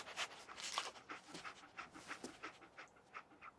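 Dogmeat, the dog companion in Fallout 4, pants in quick, breathy, rhythmic huffs close by and at low volume.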